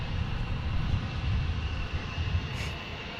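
A FedEx airplane at Portland International Airport gives a steady, loud low rumble of jet engine noise with a faint whine riding above it, holding evenly without a break during an air show.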